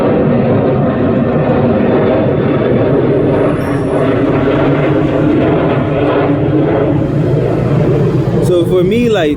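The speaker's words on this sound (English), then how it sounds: "I'm gonna let the plane pass." An airplane passes overhead outdoors on a street, its loud, broad engine roar holding steady throughout, with the sound shifting near the end as it moves away.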